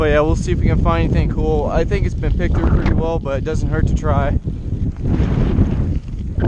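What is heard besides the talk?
wind noise on microphone outdoors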